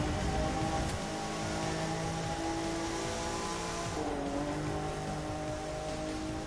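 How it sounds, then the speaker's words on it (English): A Nissan 370Z Nismo races in The Crew 2, its engine a steady, continuous drone with shifting pitch and some road noise, moderately loud with no talking. "Okay, that's a good splendid 370Z Nismo."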